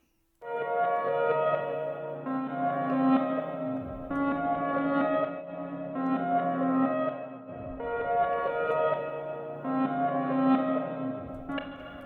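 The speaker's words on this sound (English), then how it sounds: "piano reverse" Reversed piano chords swell up from silence and cut off abruptly, repeating about three times in a slow, even cycle with a soft echoey tone.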